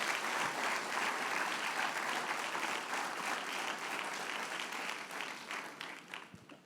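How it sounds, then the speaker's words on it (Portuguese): A church congregation claps steadily together in a large hall, the applause strong at first and gradually thinning and fading toward the end. "convido você a dar uma linda salva de palmas para o Senhor."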